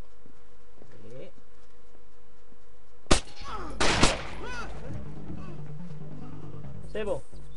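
Enemy gunfire in the stealth video game Splinter Cell: a sharp, loud shot cracks out suddenly, followed by a second burst a moment later, with game ambience and someone speaking French around it.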